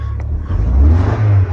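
A Mk2 car engine, wet from water, idles roughly and then revs, its low rumble stumbling and uneven as it misfires, loud and close.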